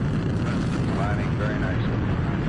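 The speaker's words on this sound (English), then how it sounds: "We have a liftoff at 16 minutes after the hour." A rocket lifts off with a broad, rumbling roar that fills the whole moment, loud and continuous, with faint voice-like sounds mixed in.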